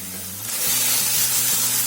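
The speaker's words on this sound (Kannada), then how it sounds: "ಈಗ ನೋಡಿ ಟೊಮೊಟೊ ಪೇಸ್ಟ್ ಆಡ್ ಮಾಡ್ತಾ ಇದ್ದೀನಿ." Tomato paste, ground in a mixer, hits a hot pan for bhindi masala curry: a sudden loud hissing sizzle swells after a quiet start and carries on to the end.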